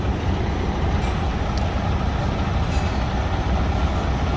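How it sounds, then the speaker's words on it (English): Two self-propelled automotive rail cars pass each other in Wisconsin Dells, producing a steady, loud rolling rumble with faint metallic squeals and no talking. "2 rail cars passing each other, both automotive rail cars."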